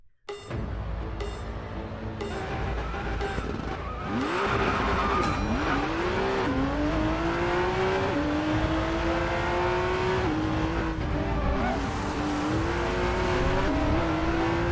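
Maserati MC20 in the Racing Master racing game, lapping the Nurburgring against a Lamborghini Reventon: a loud, continuous engine howl rising and falling through gear changes, with tire squeal and skidding through corners and no talking.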